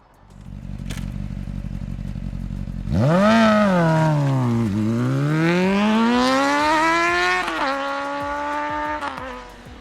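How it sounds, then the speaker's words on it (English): Honda CBR600RR inline-four sports bike engine idling low, then revving hard with a rising howl that dips and climbs again through the revs, loud and close with no voices. "there was nothing that compared to the sound and the character of an inline-four cylinder"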